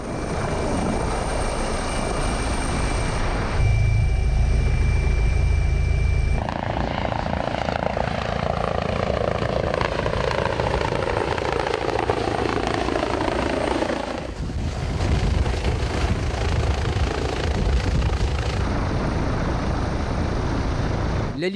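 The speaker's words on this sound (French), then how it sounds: "L'hélicoptère des HUG intervient la plupart du temps sur des accidents graves où chaque minute compte." A Geneva University Hospitals (HUG) medical rescue helicopter roars loud and close for the whole stretch, its steady rotor and turbine drone shifting in pitch as it moves, with no voices over it.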